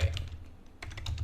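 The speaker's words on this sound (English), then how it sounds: "If I type in King's Gift." A quick run of crisp computer keyboard keystrokes, close and fairly loud, with a brief pause before a second flurry of taps.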